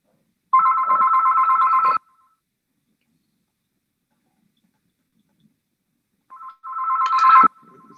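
A telephone rings in two loud electronic trilling bursts, each about a second and a half long, separated by several seconds of silence.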